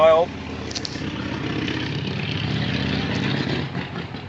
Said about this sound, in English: that's such a noisy bike. He has no mufflers on there.